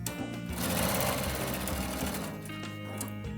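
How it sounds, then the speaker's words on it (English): A sewing machine back tacks at the end of a quilt seam, a short dense burst of rapid mechanical stitching heard up close with no talking. "now I'm going to back tack a little bit right there"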